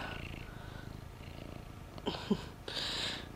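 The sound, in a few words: cat purring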